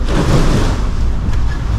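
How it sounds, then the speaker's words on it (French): Strong wind of 20 to 30 knots roaring steadily at sea aboard an IMOCA racing sailboat in the Southern Ocean, with loud broadband rush and water noise throughout and no talk. "Non, il y a le vent qui est rentré. C'est le vent qui est rentré là."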